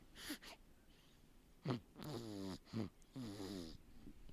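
A baby snores softly, with repeated rasping breaths at an irregular rhythm, faint and close by.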